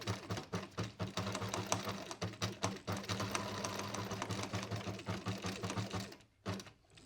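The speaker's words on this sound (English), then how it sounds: "Now I am sewing exactly over the pins" A sewing machine stitches a linen summer dress straight over pins, giving a close, even mechanical whirr in rhythmic bursts that stops briefly near the end, with no voices.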